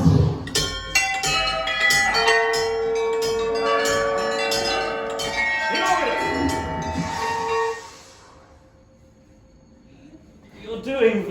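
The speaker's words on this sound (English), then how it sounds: "Let's see if you can make that bell ring once." A bell rings at an interactive wand spot at Universal Studios Japan, with bright sustained chiming tones over several seconds that fade into quieter ambience before a brief sound returns at the end.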